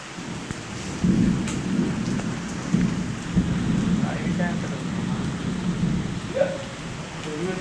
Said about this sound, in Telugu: వానని